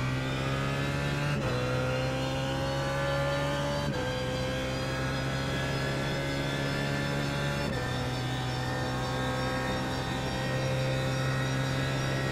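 BMW Z4 GT3 race car in iRacing at VIR, its engine droning loud and steady through uphill esses, pitch climbing in runs then dropping sharply at gear shifts around every few seconds.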